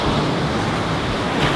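Surf washes continuously at the shore, a broad, close rushing hiss with no distinct breaks, loud and steady throughout.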